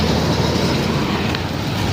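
Interior of a Mumbai local electric train running toward Pimpri, a continuous loud rumble of wheels and carriage noise with no talk.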